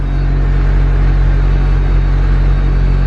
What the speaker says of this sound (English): And it's idling even smoother now.